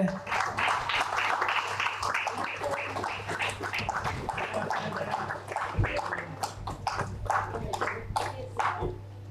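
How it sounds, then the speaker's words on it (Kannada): A hall audience claps steadily and densely for a Suchethana Sadhana award recipient honored for drama work. The sustained applause runs throughout with no break, and a low hum sits underneath. "ಇನ್ನೂ ಜೋರಾಗಿ ಬರಲಿ ಚಪ್ಪಾಳೆ"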